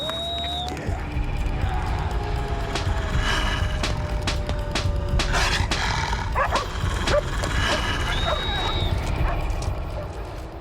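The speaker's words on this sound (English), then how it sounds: "The frenzy of noise seems to attract the attention of the dogs in the nearby farmhouse." Dogs at a nearby farmhouse bark a few times at a distance under a constant roar of high wind on a frozen winter night, with occasional high howling cries.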